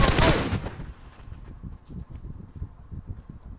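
Gunfire aimed at a car in PUBG Mobile, a loud opening burst followed by a rapid series of quieter, slightly distant shots cracking in an irregular rhythm.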